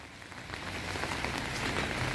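Steady rain falls and patters continuously on a flooded village garden with bean plants, a dense, even hiss with no voices.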